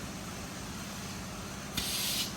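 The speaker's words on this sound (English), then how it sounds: "I just sprayed some penetrating oil in there" Penetrating oil sprayed from a can onto the rusty frame of a bagged C1500 truck, heard as a short, close hiss burst near the end over a steady low background hum.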